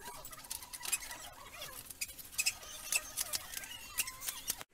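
Scissors snip through a paper net of a triangular prism in short, irregular cuts, with faint paper rustling and crinkling between the snips.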